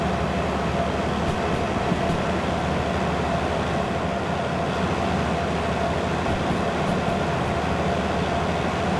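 Locomotive hauling a 144-ton freight train in the Derail Valley simulator, a loud, unbroken rumble of engine and rolling stock that never lets up, with faint clacks from the rails.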